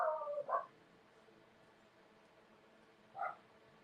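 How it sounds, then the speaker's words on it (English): Dogs bark indoors in the background: a quick pair of faint yips, then after a pause a single further bark. "Sorry, the dogs are barking again."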